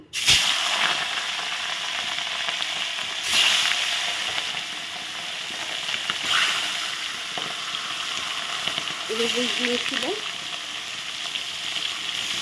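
Pieces of large river fish fry in hot oil with a steady, continuous sizzle throughout, broken by occasional clatters as a utensil turns the pieces, and a brief squeaky sound near the end.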